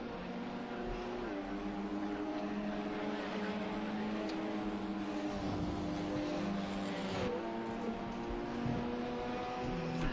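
LMP2 race cars in a racing video game at the Fuji circuit, engines droning and whining steadily as they cross the finish line, a continuous mid-level roar with a few brief shifts.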